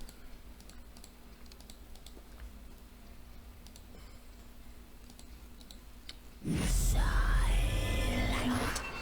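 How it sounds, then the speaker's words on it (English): Computer keyboard keys click in a quick burst of taps near the end, louder and close, after a stretch of faint background ticks. "Some key clicking ASMR right there."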